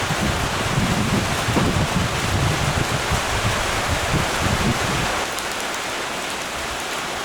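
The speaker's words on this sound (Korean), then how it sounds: "빗소리" Steady rain hisses and patters on surfaces, fairly loud at first, then softening noticeably for the last couple of seconds.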